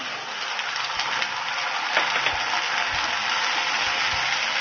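Chopped onions frying in hot oil with cinnamon and small cardamom for Hyderabadi chicken masala on a gas stove, a steady close crackling sizzle with no talking.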